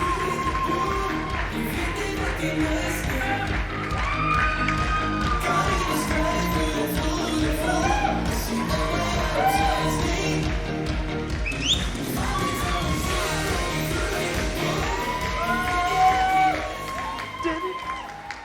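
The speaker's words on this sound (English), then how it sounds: "Please give them A massive round of applause." A wedding audience at a couple-of-the-year event responds with applause, whoops and cheering over music, a presenter's voice coming through and the crowd noise swelling near the end.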